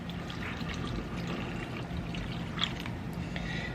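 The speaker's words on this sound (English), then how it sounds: "I'm going to put the water that belongs in there" Two cups of water pour into a pot during home cooking, a soft, steady trickling stream that runs without a break, heard close and fairly quiet with no talking over it.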